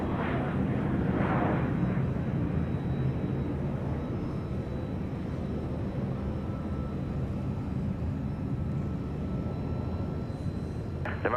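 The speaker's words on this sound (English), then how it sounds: "just about to touch down. Southwest Flight 4276 from Orlando. It's a MAX 8" A Southwest Boeing 737 MAX 8 arriving from Orlando lands at Dallas Love Field, its loud, steady broadband jet roar filling the whole stretch without letting up, with no talk over it.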